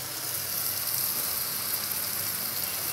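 Rice tossed into a pan with scrambled eggs and vegetables sizzles in a steady, dense frying hiss that stays level throughout, with no voices.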